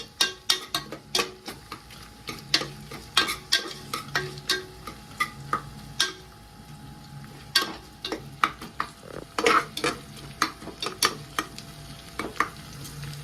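Ginger, garlic and chili frying in oil while being stirred, with repeated sharp scrapes and clacks of a spatula against the pan over a low sizzle, close and fairly loud, no talking.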